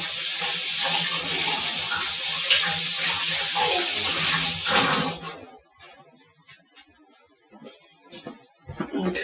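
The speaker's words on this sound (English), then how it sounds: "Let me wash my hands real quick." A kitchen tap runs loudly for about five seconds while hands are washed during pie and cake baking, then shuts off, leaving faint drips and small clatters.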